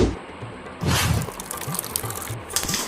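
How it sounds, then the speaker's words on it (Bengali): Water splashes and pours during face washing at a home sink, a burst starting about a second in and continuing with uneven sloshing, close and moderately loud. "মুখটা ধুয়ে নি।"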